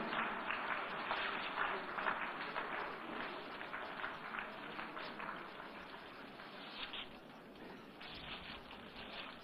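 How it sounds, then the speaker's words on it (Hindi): An audience applauds as a coffee table book is released on stage at a formal official event. Dense, continuous clapping is heard from a distance, slightly muffled, and eases a little toward the end. "आइए तालियों की गड़गड़ाहट के साथ इस शानदार क्षण की सराहना करें।"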